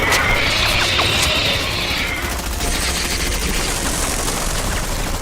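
Gunfire rings out in a dense, continuous volley right after a shouted fire command, loud and close with sustained crackling noise throughout.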